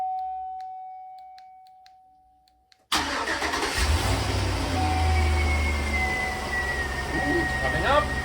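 After a near-silent pause with faint clicks, a salvaged car's engine cranks and catches abruptly, then settles into a loud, steady idle with rising whine, close to the microphone; a voice briefly speaks.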